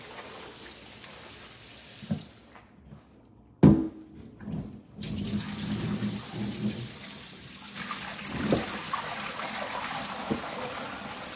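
Collard greens are washed under a running kitchen tap, water streaming and splashing steadily nearby, with a sharper splash or knock partway through and no talk.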